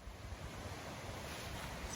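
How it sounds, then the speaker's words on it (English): A stream near waterfalls on the Powerhouse Trail in the Central Adirondacks, heard as a constant broadband wash of rushing water, faint and distant, with some wind noise and no talk. "Starting to hear some rushing water."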